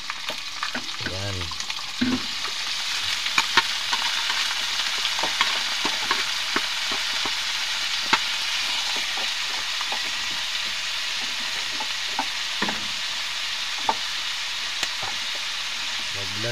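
Bitter gourd (ampalaya) frying in a pan, with a steady close sizzle throughout and occasional clicks and stirring clatter; a voice says a word early on.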